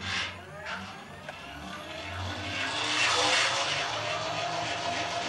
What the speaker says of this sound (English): Bolton Tools ZX45 2 horsepower mill, moving at 50